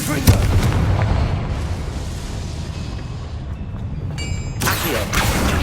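A Confringo fire spell blasts in Hogwarts Legacy, setting off loud, rumbling explosions with a sharp crack at the start and a second burst near the end, heavy and close throughout.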